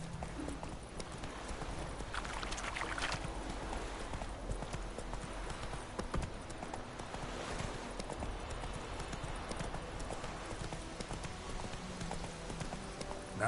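Hooves of the horse Roach clip-clop steadily in The Witcher 3, a continuous rhythmic galloping beat heard close with no talking over it.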